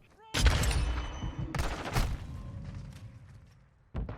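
Gunfire in Modern Warfare 2 booms in loud, close bursts, a heavy volley followed by further sharp shots and a rumbling tail, then another blast at the end.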